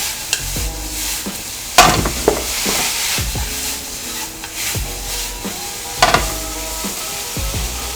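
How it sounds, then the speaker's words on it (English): Mi Goreng instant noodles frying and being stirred in a pan, with a steady close sizzle and repeated scraping stirs, a few louder clatters standing out. "Let it fry the noodle for a while"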